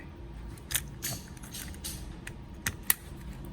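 A Glock pistol's lower frame parts are fitted back together by hand, with faint scattered small metallic clicks and taps and one sharper click near the end.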